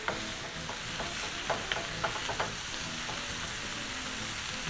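Ingredients being stirred around in a hot frying pan for Indian-style macaroni cheese with carrots, steady sizzling with scraping and clacking of the utensil against the pan, close and continuous, no talking.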